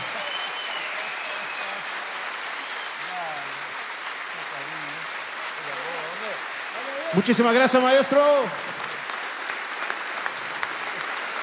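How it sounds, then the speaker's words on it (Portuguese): A burst of applause rises suddenly for about a second after a song amid steady background noise, with a person speaking briefly before it. "Aplausos."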